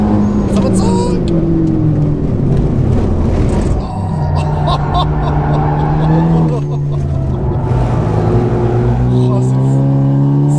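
Renault Mégane 4 RS Trophy-R accelerating hard around a race circuit, a loud, close engine rising through the revs with gear changes and steady road and wind roar, while someone talks over it.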